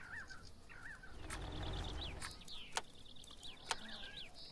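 Crows cawing on a farm in Farm Manager 2018, several sharp harsh caws scattered over a few seconds against a low rumbling background, fairly clear and not too distant.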